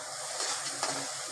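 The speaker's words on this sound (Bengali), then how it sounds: "মশলাটাকে ভালো করে কষিয়ে নিচ্ছি।" Spice paste of cumin, coriander and Kashmiri chilli powder stir-fried in a pan, a brief close hiss and sizzle with two soft scraping bursts from stirring.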